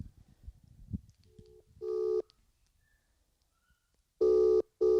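Phone call placed during a podcast: two loud electronic ringback tones, one short burst midway and a longer double pulse near the end, heard alone after some faint background rustling.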